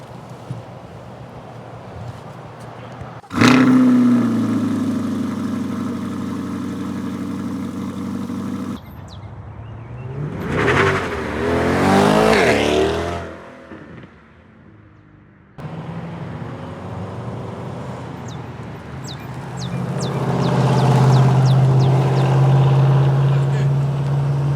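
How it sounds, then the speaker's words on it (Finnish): A Chevrolet Corvette drag car at Gainesville raceway starts with a sudden loud engine note, then idles roughly and revs up hard in several loud, close bursts separated by brief cuts. "Laitetaan korvetti tulille."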